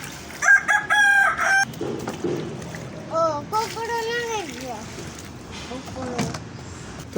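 Chickens and a rooster at a backyard pigeon and poultry coop: a rooster crows loudly near the start, then harmonic crowing and clucking follow, mixed with scuffling, a splash and someone talking in between.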